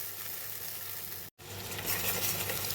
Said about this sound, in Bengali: দিয়ে অল্প একটু নাড়িয়ে চালিয়ে নেব